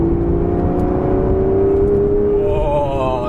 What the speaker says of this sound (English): you get the exhaust note, and this car comes to life